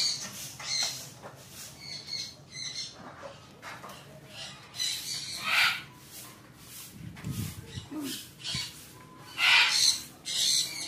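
A white parrot at a farm in Pampanga gives harsh, raspy squawks in several bursts, close and fairly loud. Faint voices talk in the background between the calls.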